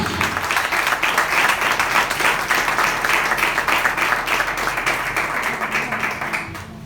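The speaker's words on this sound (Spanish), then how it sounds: "¿Cuánto le dan un fuerte aplauso?" A church congregation claps together, producing an even, rhythmic wash of applause that holds steady for several seconds before tapering off slightly at the close.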